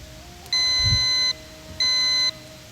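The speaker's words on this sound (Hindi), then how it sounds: "आपने बजाया, आपने बजर दबाया।" A quiz show buzzer on a Ramzan debate game-show set sounds twice as steady electronic tones, the first about a second long and the second shorter, with a soft thump as it is pressed.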